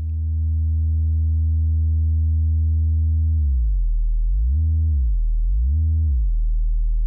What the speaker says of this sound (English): the synth that you're hearing is the TTSH UP 2600 clone.